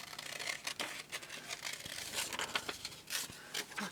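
Scissors fussy cutting a thin paper embellishment for cards and tags: soft, close snips and rustling crinkles of paper in quick irregular succession, quiet and without talk.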